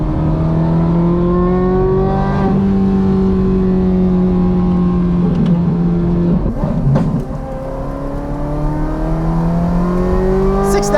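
A Ferrari 430 Scuderia's 4.3-liter, 503 hp flat-plane-crank V8 revs repeatedly through an S-line exhaust, its pitch climbing and falling in loud, continuous sweeps with a brief dip near the middle.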